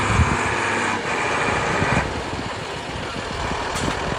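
A Mercedes Unimog off-road truck on 44-inch tires with four-wheel drive and portal axles, driving with a steady, close engine drone and rough rumbling that dips briefly before picking back up.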